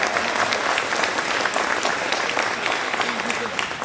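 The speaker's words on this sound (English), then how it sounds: "Round of applause for the great-grandparents in the house here." An audience at a school winter band concert bursts into loud, dense applause for the great-grandparents present, a continuous close roar of many hands clapping with some crowd noise mixed in.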